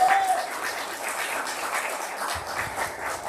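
Applause from an audience at a political gathering of county Democrats hosting a U.S. Senate candidate, a soft, steady patter of many hands that fades slightly, with a faint voice near the end.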